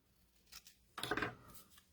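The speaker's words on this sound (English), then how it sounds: "Let's cut it and put it on straight." A single quick snip of scissors cutting paper for a stamped scrappy craft, soft and close in a quiet room.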